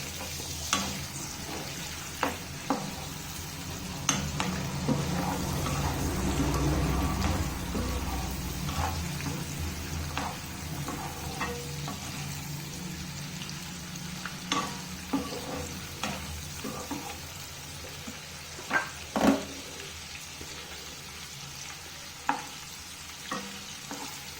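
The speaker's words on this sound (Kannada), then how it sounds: "ನಾನು ತಗೊಂಡಿರೋಂಥ ಪನ್ನೀರ್ನ ಆ್ಯಡ್ ಮಾಡ್ಕೊತಿದ್ದೀನಿ. ಇದನ್ನೇನು ತುಂಬಾ ಫ್ರೈ ಮಾಡ್ಕೊಳ್ಳೋದು ಬೇಡ." Paneer cubes fry in a pan with a soft, steady sizzle while a spoon stirs them, giving sharp scraping clinks against the pan at irregular intervals, close and moderately quiet, with no talking.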